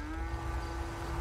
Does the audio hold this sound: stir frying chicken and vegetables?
no